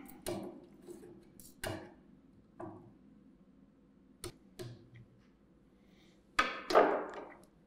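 A knife chops through gently boiled beef on a board, cutting it into quarter-pound chunks for plain Irish stew: a handful of sharp, separate knocks spaced irregularly, fairly faint and close, with no voices.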